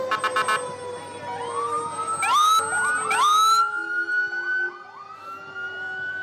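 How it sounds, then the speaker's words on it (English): A Ventnor City Fire Department ambulance sounds its wailing, rising siren with quick yelp sweeps as it rolls along in a nighttime holiday parade, loud and close with no talking. "we have the Ventnor City Fire Department ambulance, and we have a couple of firefighters"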